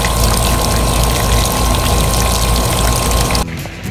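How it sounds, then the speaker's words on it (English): Water pouring steadily from a hose into a fence post hole packed with dry Quikrete, a continuous loud rushing gush that cuts off abruptly near the end. "now we're just filling up the hole with water"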